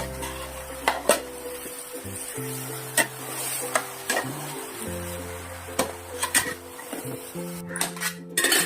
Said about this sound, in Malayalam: എല്ലാം കൂടെ ഒന്ന് ഇളക്കുക.